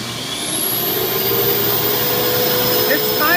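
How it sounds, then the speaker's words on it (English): A central vacuum system runs through a wall hose inlet with a loud, steady whooshing roar and a high whine that holds without a break. "Now we can listen to it."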